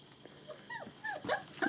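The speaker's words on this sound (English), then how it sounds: "No, that's not talking, that's whining." Young puppies whine and whimper in short rising and falling cries, several in quick succession, close and fairly soft.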